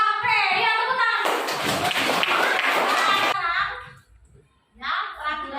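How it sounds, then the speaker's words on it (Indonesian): Children in a classroom clap their hands together for about two seconds, a dense burst of claps framed by a child's and a teacher's voices before and after. "Ya, tepuk tangan."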